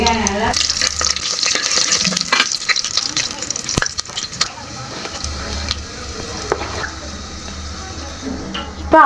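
Large onions fry in about 100 ml of oil with whole spices for mutton biryani, a close, loud sizzle with frequent stirring clatters and sharp scrapes that eases in the middle, no speech.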